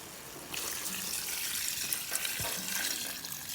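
Water pouring into a cooking pot of native chicken in a home kitchen, a steady splashing rush that begins abruptly and continues without pause, fairly close and alone.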